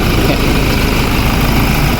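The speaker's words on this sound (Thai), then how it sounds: "เครื่องยนต์เดินนิ่งๆนะครับ" A used four-door automatic sedan's engine idles smoothly up close, a steady, even low rumble with no talking over it.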